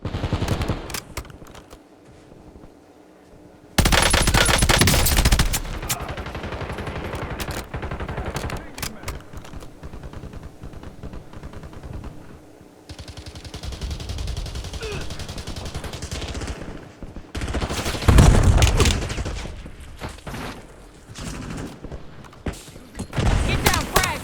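Call of Duty Warzone gunfire from STB 556 and BP50 rifles: bursts and sustained automatic fire, loud and close, separated by quieter stretches with mechanical clicks, and game voice callouts heard briefly.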